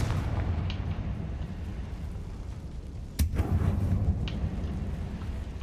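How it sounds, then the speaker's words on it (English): Confringo fire spell explosion in the video game Hogwarts Legacy, a sudden sharp burst cutting through a steady loud low rumble that continues after the blast. "Confringo"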